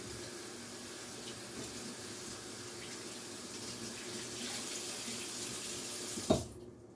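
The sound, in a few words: rinsing hands under running tap water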